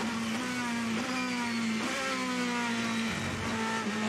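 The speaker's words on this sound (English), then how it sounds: "Some big revs coming down the gears" A GT race car at the 24 Hours of Le Mans revs hard as it drops down through the gears, its engine note blipping and shifting in steps, loud and continuous amid track noise.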